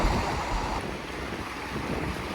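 Waves surging and colliding offshore near Manazuru's Mitsuishi rocks, a steady broadband wash of rough surf with wind buffeting the microphone, continuous and fairly close with no voices.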